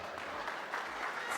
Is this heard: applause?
yes